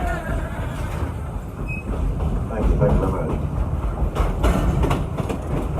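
Dollywood theme park train rolling along its track, a steady loud rumble with rhythmic clickety-clack of wheels on rail joints heard from on board, while a voice speaks briefly over it.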